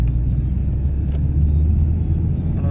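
An Audi 100 C4 on a test drive: steady low engine and road rumble from inside the car, fairly loud and even, with a brief click partway through.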